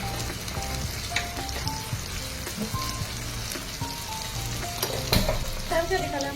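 Turmeric and salt frying in a pan for paneer butter masala, a steady close crackling sizzle with stirring scrapes and small clinks throughout.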